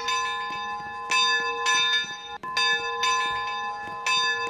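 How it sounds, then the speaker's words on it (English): Repeated bright metallic bell dings from a train in a Roblox railroad game ring out in a steady, continuous pattern, loud and close, with a short break partway through before the ringing resumes. "Here is a train coming with a bell dinging."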